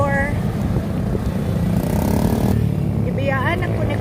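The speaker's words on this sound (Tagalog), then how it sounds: "Alanganin magud kaayo magsakay og motor oy." Motorcycle ride in Cebu: a steady, close engine drone with rumbling road and wind noise throughout, and faint voices over it.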